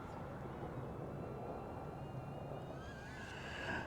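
A DJI Neo drone flies close by with a loud, steady broadband whir, its rising whine growing brighter and stronger toward the end.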